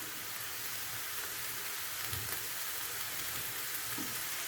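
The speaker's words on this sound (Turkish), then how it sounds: "kıymalarımı şöyle güzelce kavurdum. Şimdi bir miktar Yağ gezdireceğim" Oil sizzles and crackles steadily in a hot pan of frying minced meat, a dense continuous hiss close by with no talking.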